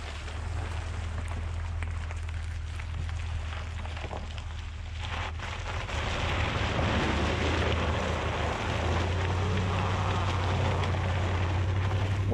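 A 2020 Ford F-250 with the 7.3 gas engine driving off-road in two-wheel drive, heard from outside as a continuous broad engine roar with tire and wind noise that swells in the second half.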